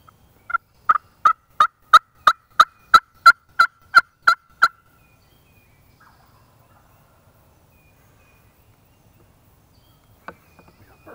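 A wild turkey outdoors gives a rapid, even series of about a dozen sharp calls, fairly clear and unmasked, followed by near silence and a faint call at the end.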